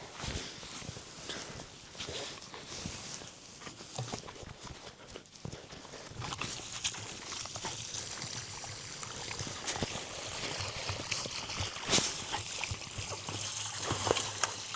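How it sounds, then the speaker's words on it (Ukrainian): Water rinsing wet sand out of a swimming pool being prepared for winter, a steady splashing, trickling flow close by with scraping and knocks, fairly quiet and continuous. "Буду зараз водою вимивати."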